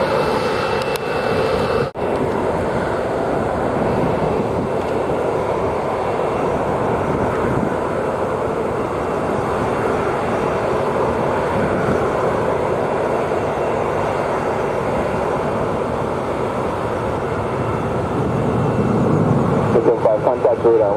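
An airliner goes around after an aborted landing at Sangster International Airport, its jet engines a broad, steady roar held throughout, with air traffic radio talk layered over the engine noise.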